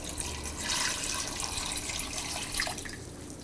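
Water is poured into a pot of cassava (tapioca) pieces while cooking kappa biriyani, a soft continuous splashing and gurgling stream that stays fairly quiet throughout.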